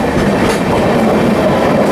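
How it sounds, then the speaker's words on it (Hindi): The Amrit Bharat Express rolls past the Patna Charlapalli special train just before Durg Junction, a loud, continuous rumble of wheels and carriages close by with no pause. "दुर्ग जंक्शन के जस्ट पहले ओवरटेक कर रहे हैं पटना चारलापल्ली स्पेशल ट्रेन को"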